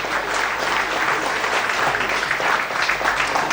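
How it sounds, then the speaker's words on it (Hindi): Loud, steady applause from a crowd at a felicitation function honoring an IAS officer, many hands clapping densely and continuously without a break or audible speech. "एक बार जोरदार तालियां दें।"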